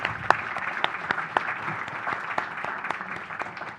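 An audience applauds to welcome a guest onto a studio set, a dense, steady patter of clapping from many hands, close and sustained throughout with no speech.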